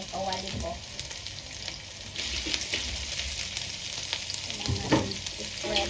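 Minced meat and potato fry in oil in a hot pan, giving a steady, close crackling sizzle with occasional sharper pops and scraping stir sounds, continuous for the whole stretch with no talking.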